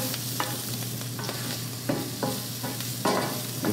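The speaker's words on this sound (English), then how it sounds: "keep the Brussels sprouts in the skillet long enough to melt the butter" Brussels sprouts fry in melting butter in a skillet for crispy keto sprouts, a steady close sizzle broken by several sharp scraping stirs at irregular intervals, with no voices.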